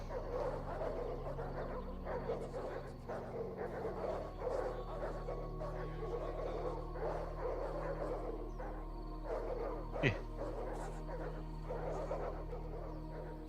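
Dogs in a video game set around ancient Rome bark and yip in a dense, continuous cluster, fairly faint under a low steady hum of game ambience.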